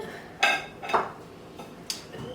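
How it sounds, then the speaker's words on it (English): A spoon stirring cheesy beer dip in a pot gives three or four separate scraping clinks against the metal, spaced a second or so apart, close by and fairly quiet, with no talk. "we're gonna keep stirring"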